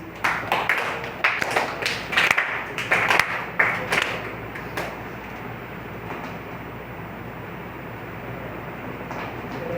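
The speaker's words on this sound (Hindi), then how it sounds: "बेटा ताली बजाओ प्लीज।" Students clap their hands together in a classroom, a burst of several uneven rounds of claps over the first few seconds that then fades out, leaving quiet room tone.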